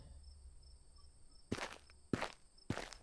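Three footsteps on a path at night, heard close and spaced about half a second apart, with a steady chorus of crickets and insects droning in the background.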